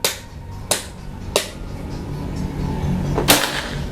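PCP air rifle firing, four sharp shots spaced out, each a crisp high crack with a quick decay, fairly close, over a low background hum.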